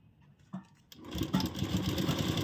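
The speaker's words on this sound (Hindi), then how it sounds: "पहले किनारे सिलाई लगा रहे हैं।" A sewing machine stitches along the edge of a zip pocket, starting after a couple of brief knocks and then running steadily with a fast, even rattle close by.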